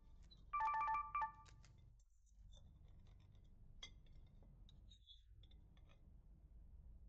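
A telephone rings briefly with an electronic warbling tone near the start, followed by quiet room sounds and a faint voice in the background.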